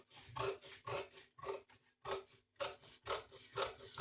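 Scissors cut through a paper pattern for a katori blouse in quick, rhythmic snips, about eight crisp strokes with short pauses, close and fairly quiet, with no voice.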